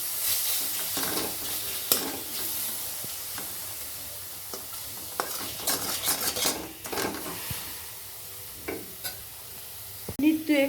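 Black pepper paste mixture being stirred and fried in a pan for chicken egg noodle soup, a hissing sizzle punctuated by repeated scraping and clinks of a utensil against the pan.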